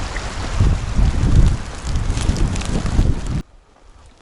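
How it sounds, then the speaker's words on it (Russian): Strong wind gusting and roaring across the microphone beside a taiga river in spring, loud and continuous for over three seconds, then cutting off abruptly into near quiet before a final burst. "Пипец, ветрище какое поднялось."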